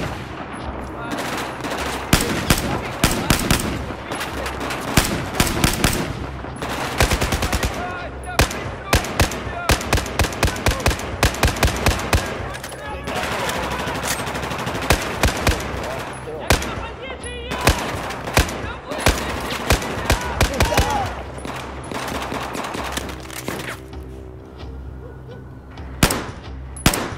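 Rapid machine gun fire rattles in the video game Battlefield 4, sustained bursts of close, loud gunshots with scattered explosions, while voices call out over the fighting.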